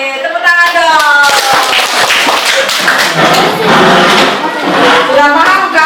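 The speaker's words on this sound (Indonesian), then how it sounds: "Oke, tepuk tangan dong." Children clap their hands in a classroom song activity, a run of quick close claps and taps mixed with young voices singing and calling out.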